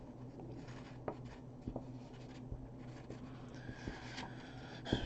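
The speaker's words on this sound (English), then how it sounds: "Well, I can just draw that again." Soft scratching of a pencil drawing on paper for a sixth-grade forest tree art lesson, faint and close with brief strokes and light taps, quiet and without talk.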